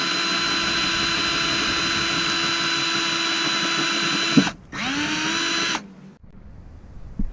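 A rivet gun sets a rivet on a VIN plate in the dash of a Mk3 Jetta VR6: a loud, steady mechanical whine runs for about four seconds, then a short second burst before it cuts off.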